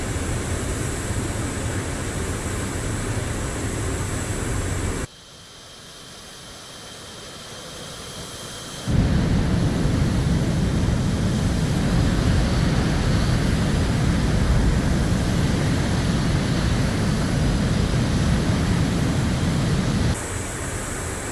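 Steady roar of an F-18 jet engine in the DCS flight simulator, loud and continuous, with a brief quieter dip partway through before the full engine noise returns and holds.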